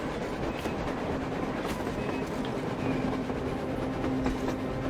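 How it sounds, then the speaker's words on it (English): A train rolls past on the surface in the video game Metro Exodus, a steady loud rumble with faint rhythmic clatter of wheels lasting throughout, with no talk over it. "A train! A damn train on the surface!"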